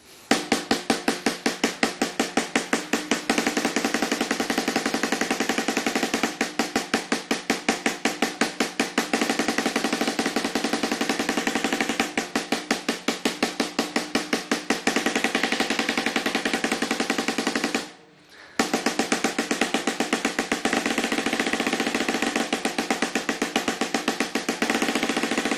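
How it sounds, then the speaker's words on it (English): A drummer plays a fast single stroke roll in 32nd notes, a dense, even stream of crisp hits continuing for most of the span with one brief pause before resuming. "a full entire bar of single stroke roll with 32nd"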